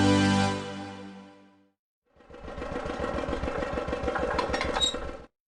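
A cartoon tractor engine in a preschool educational video game starts up after a short tonal jingle and a brief silence, then chugs in a steady, rhythmic idle that stays close and moderately loud.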